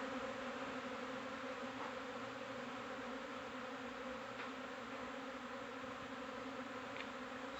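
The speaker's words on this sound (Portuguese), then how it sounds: "Cinco minutos de abelha chegando." A large swarm of Apis honeybees arriving at and settling into a hive box, a dense, steady droning buzz that holds at an even level throughout, with no voices.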